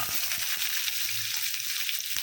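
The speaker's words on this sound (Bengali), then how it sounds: "তিরিশ সেকেন্ড ভাজার পর এখন দিয়ে দিচ্ছি পেঁয়াজ কুচি" Chopped onion and a large garlic clove frying in a pan, giving a steady, close sizzle with faint stirring clicks throughout and no talking.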